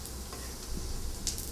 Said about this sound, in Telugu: ఈ డీప్ ఫ్రై చేసిన రొయ్యలంతా వేసేసుకోవాలి.